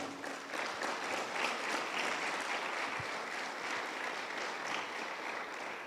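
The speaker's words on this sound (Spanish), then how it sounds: "Dale palmas a Él, amén." Church congregation applauding steadily for several seconds, a dense, even wash of many hands clapping in a reverberant hall, with no talk over it.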